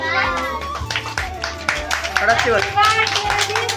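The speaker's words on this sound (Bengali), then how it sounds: "হ্যাপি বার্থডে হাততালি দাও সবাই" Rhythmic hand clapping comes from a small family gathering at a little girl's home birthday celebration, mixed with children's and adults' voices.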